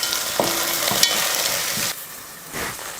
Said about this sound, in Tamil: ஒரு கேரட்டும் 4 பீன்ஸும் சேர்த்துக்கிறேன். இதையும் வதக்கிடலாம்